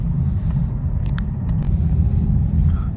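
A Nissan Qashqai 1.5 dCi out on a test drive, heard from inside as a steady low engine and road rumble, with faint clicks and rattles over the drone and no talking.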